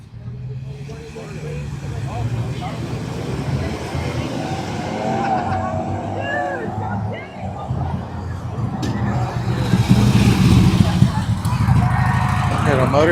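A motorcycle rumbles past on a street, its engine swelling louder toward the end, while people talk and street noise carries on in the background.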